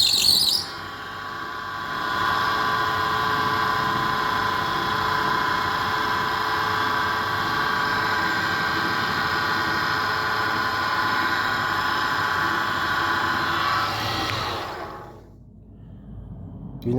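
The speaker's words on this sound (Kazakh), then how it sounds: "Сол подшипниктеріне май салып жібергеннен кейін генератор тып-тыныш жақсы жұмыс жасап тұр" A rebuilt Mitsubishi L200 alternator runs on a test bench with freshly greased bearings. It makes a steady, smooth high whine and hum that holds for about thirteen seconds and then stops abruptly.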